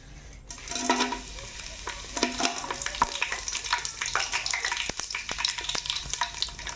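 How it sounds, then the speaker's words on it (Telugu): Biryani masala hitting hot oil in a pan, a loud close sizzle and crackle with sharp pops and stirring scrapes that runs on steadily. "నూనె అయితే కాగింది ముందుగా బిర్యానీ మసాలా వేస్తున్నా"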